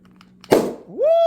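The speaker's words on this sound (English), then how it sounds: "My ears still hurt from that explosion. That sounded like a shotgun." A bulging Virginia pipe tobacco tin pops open with a single sharp, loud bang, followed by a rising whistle-like tone, heard close up.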